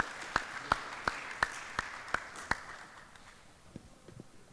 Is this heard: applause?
yes